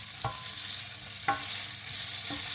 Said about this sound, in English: Who doesn't love a bit of fried tofu?